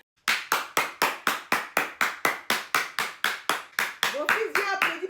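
Sharp, close hand claps in praise during a French-language worship moment, about fifteen evenly spaced loud claps in a steady rhythm, followed by a voice speaking over faster clapping at the end.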